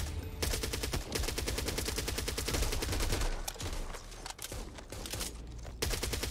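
Rapid machine gun fire from Back 4 Blood, a co-op zombie shooter, rattling out in steady dense bursts almost continuously with only brief gaps, loud and close.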